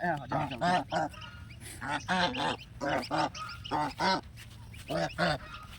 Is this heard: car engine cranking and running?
no